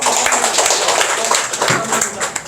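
A room of club members applauds together at an autumn 2023 gathering, a steady, dense burst of many hands clapping close by that keeps up for a couple of seconds with no voices on top.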